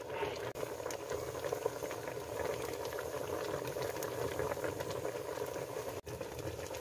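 A pot of lechon paksiw stew bubbling at a steady boil, continuous gurgling and popping with a couple of brief clicks.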